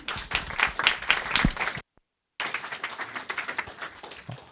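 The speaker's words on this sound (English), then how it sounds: "maybe just one more round of applause for all three panelists" Audience applause for three panelists at a campus neurodiversity panel event, a burst of dense hand clapping that breaks off briefly into silence, then resumes as sustained clapping from a room of listeners.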